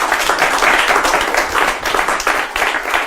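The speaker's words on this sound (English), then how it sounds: "Give her a round of applause." Loud, close audience clapping at a live performance, brisk and steady with a few rhythmic surges, no talking heard.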